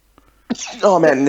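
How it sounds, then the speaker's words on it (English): A single close, loud sneeze bursts out after a short sharp intake of breath, ending in a voiced, drawn-out exhale. "It's not an epic sneeze, but it was a good try."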